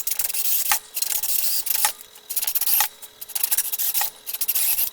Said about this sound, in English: So let me go and drill the rest of these out.